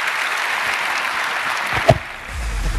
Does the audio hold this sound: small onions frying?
no